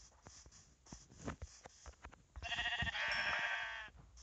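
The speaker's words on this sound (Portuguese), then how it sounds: "Ovelha." A sheep bleats in a survival video game, a loud wavering cry over the second half, following light clicks and soft game noises.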